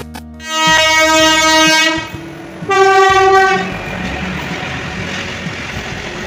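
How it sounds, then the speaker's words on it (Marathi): A Gandhidham Superfast Express arrives at Malkapur railway station in India, sounding two long, loud horn blasts before its rumbling, clattering wagons roll in nearby. "तर ही रेल्वे आली आहे विशाखापट्टणमवरून आणि निघाली आहे गांधीधाम, गुजरात."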